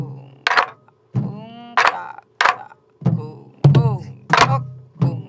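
A Korean buk barrel drum is played in traditional rhythm practice, with strong, resonant thuds and sharp rim strikes arriving in a regular pattern of about eight close, loud hits and no voices.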